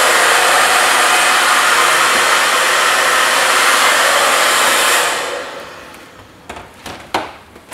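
A hair dryer blows hair with a loud, steady, close roar for about five seconds, then cuts off, leaving a few light knocks and taps.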